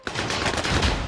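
Rapid automatic gunfire in the shooter game Call of Duty Vanguard/Warzone, a short, dense burst of shots in quick succession, loud and close.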